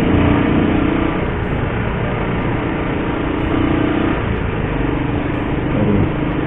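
A motorcycle engine drones steadily and loudly up close, a continuous low rumble without pause.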